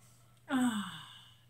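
A single big breath is blown out during a breathing exercise, a close, breathy exhale lasting about a second that fades away into quiet.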